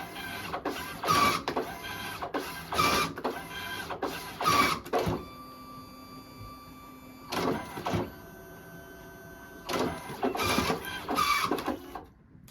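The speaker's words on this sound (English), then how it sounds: "Right now, this is the realigning process. It's going to cut a few paper slots just to realign the printer." A DNP RX1 photo printer realigns its media and cuts off a few paper slots, giving loud bursts of mechanical whirring separated by a steady humming drive tone, repeating several times close up with no talk.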